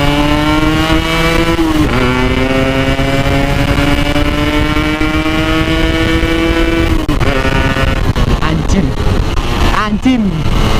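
A Yamaha RX Special 115cc two-stroke motorcycle with a filled-out exhaust and smaller gearing for top speed accelerates hard, its engine note climbing through gears with clear shifts, loud and close throughout.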